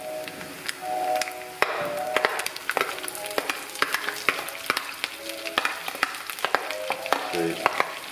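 Small omena fish from Lake Victoria fry crisp in a pan with a constant crackling sizzle, broken by frequent sharp taps and scrapes of stirring close up.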